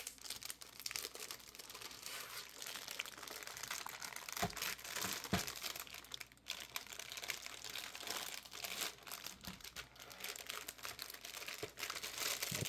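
Tape peeled and crinkled off the cardboard box of a PC component during a desktop build, a continuous rustling and crackling close up with brief pauses and no talking.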